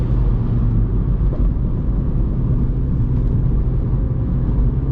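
A Mini drives along twisty roads, heard as a loud, steady engine and road rumble with a constant low drone and no break.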